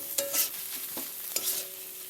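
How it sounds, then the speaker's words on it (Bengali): Flaked bhola fish is stirred lightly in a pan with fried ingredients for a filling: a few quiet spatula scrapes and soft sizzling, alone and close. "এবার এর মধ্যে ছাড়িয়ে রাখা ভোলা মাছটি দিয়ে হালকা করে নাড়াচাড়া করে নিয়ে একটি পুর করে নেব"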